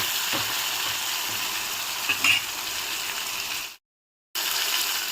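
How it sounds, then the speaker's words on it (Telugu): Tomato fries in a pan for coriander chutney, giving a close, steady sizzle with a few faint spatula clicks. The sound cuts out completely for about half a second, then the frying resumes. No one speaks. "చూడండి, ఇంకొంచెం వేగాలి టొమాటో."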